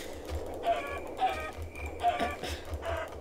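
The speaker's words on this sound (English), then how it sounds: "Ooh, chicken." A chicken in the Minecraft Tekkit video game clucks several times in short, evenly spaced bursts at a moderate level.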